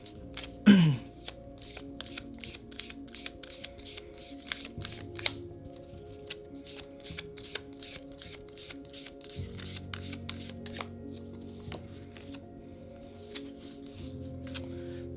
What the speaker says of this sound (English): let's pull an oracle card for you